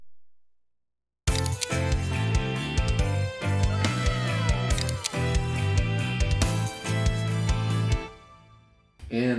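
An anime-style song built from synthesizer, violin, guitar, bass and drums with added sound effects plays loud and dense after a short silence, with steady driving beats throughout before it thins out at the end.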